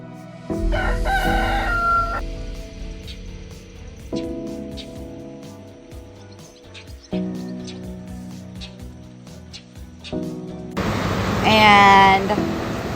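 A rooster crows on a farm, one loud drawn-out call near the end of the clip, set against a background of steady tonal sounds and noise.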